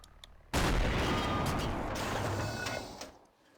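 A tank cannon fires in Garry's Mod with ACF tanks: a single sudden loud blast that cuts in abruptly, followed by a long rumbling decay lasting a few seconds before fading.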